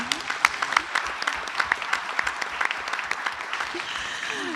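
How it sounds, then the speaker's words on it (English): Applause rings out at a Klein ISD school board meeting honouring a trauma surgeon, with dense, even clapping from a roomful of people and a few sharper individual claps standing out. "let's clap for that, y'all"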